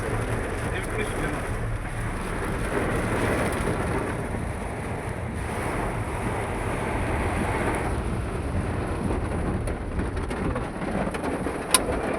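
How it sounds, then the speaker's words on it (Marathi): Steady, dense rain pours down on Konkan orchards throughout, a continuous hiss with low rumbling underneath that suggests distant thunder. "आता चर्चा करता करताच पाऊस आला"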